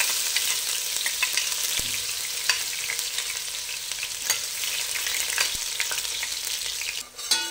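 Four finely chopped onions go into about four big spoons of hot oil and fry steadily, a dense, even sizzle close up with occasional stirring clicks, no voices.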